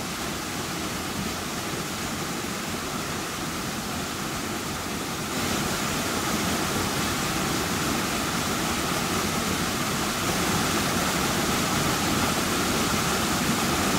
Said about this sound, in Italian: ecco come scorre l'acqua, acqua nera.